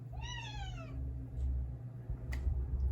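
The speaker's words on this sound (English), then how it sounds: "Everyone says, oh, I want a talkative cat." Talkative cat giving one clear, drawn-out meow with a falling pitch, fairly close, followed by a quieter short vocal sound and a faint tick over low background hum.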